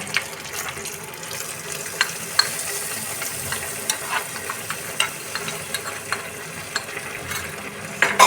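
Dry fruits being stirred into gajrela (carrot halwa) in a pan with the gas off, giving soft scraping and clinking strokes at an irregular pace over a low, steady background.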